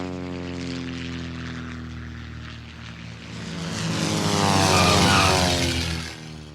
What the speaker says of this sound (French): Il y en a justement un qui s'apprête à atterrir.